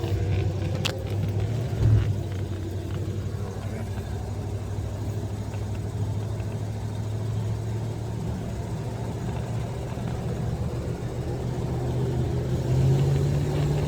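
A 1979 Chrysler 300 engine warms up from cold, giving a steady, deep, rumbling idle heard from inside the car, with a slight rise in revs near the end.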